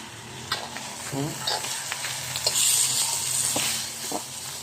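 Dried fish (tuyo) fries in a blackened wok with a constant soft crackling sizzle, broken by occasional scrapes and clinks of stirring.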